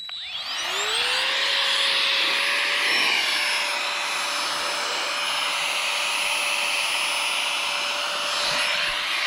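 A Giga Pump 4.0 portable mini air pump inflates a backpacking pillow, spinning up quickly into a loud, steady, high whirring motor whine that holds unchanged at close range. Nobody talks.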